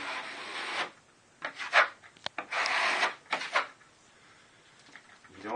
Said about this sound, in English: Spread your thin set or your mastic like this evenly to get a good bond.